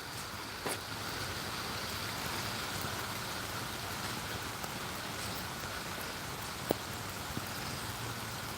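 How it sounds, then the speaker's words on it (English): Rain falls steadily outdoors, making a constant, even hiss throughout. There is no talking, and a faint click or drop stands out once near the end. "the rain's picking up"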